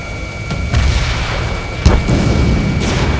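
Missile launches in the jet combat game Ace Combat 7: Skies Unknown, a few short whooshing bursts over a loud, constant engine roar with low booming rumble, no talking.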